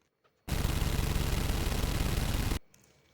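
A loud, dense burst of rapid gunfire lasts about two seconds, then cuts off abruptly into quiet.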